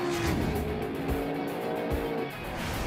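Super GT GT300 class race cars on track roar in a loud, continuous engine drone with a steady high whine, with brief hints of tire squeal and no talking.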